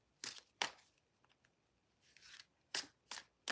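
Several crisp, quiet riffles of a tarot deck being shuffled, coming in short bursts separated by pauses, close up.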